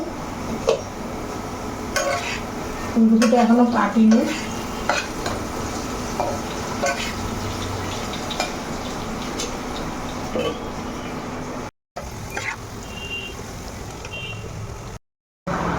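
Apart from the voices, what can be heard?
potatoes frying in a pan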